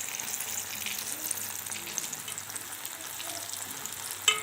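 Starch-coated cauliflower frying crisply in hot oil, a continuous close sizzle and bubbling hiss with a sharp click near the end, no voices.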